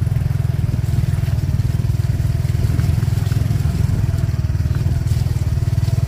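A motorbike rides along a rainy mountain forest road, its engine giving a steady, rapid low chugging that stays close and even throughout, with rain and road clatter mixed in.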